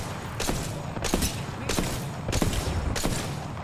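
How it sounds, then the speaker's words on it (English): Rapid gunfire in the battle royale game Apex Legends comes in repeated loud bursts about every two thirds of a second, dense and close over constant background game noise. "Listen up, I'm getting shot at."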